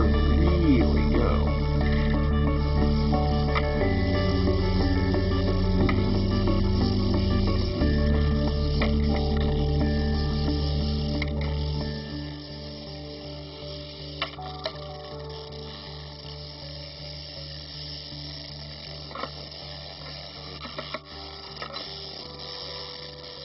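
A toothbrush Bristlebot, a toy robot built on toothbrush bristles, runs with its battery-powered vibrating motor buzzing steadily and loudly at first, then dropping to a quieter hum with occasional small clicks and taps.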